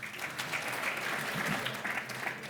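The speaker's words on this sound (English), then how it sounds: "Give her a round of applause" Audience applause at an apprenticeship awards ceremony as Michelle Beardshaw, Director of People, is welcomed to the stage: steady, dense clapping from a crowd, sustained and fairly loud throughout, with no voices over it.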